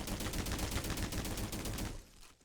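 An M9 pistol fires in the game Energy Assault: about a dozen sharp shots in fast, even succession, loud and close, stopping abruptly with a short fading tail.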